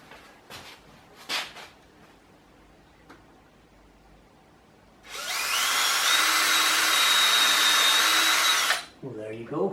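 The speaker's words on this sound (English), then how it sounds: "I'm going to need to drill the pilot holes" A power drill fitted with a panel pin as a bit bores a pilot hole while a summer seat is repaired, a loud steady whine of about four seconds after scattered knocks, followed by brief talk.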